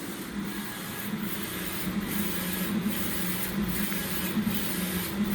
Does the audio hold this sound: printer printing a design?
yes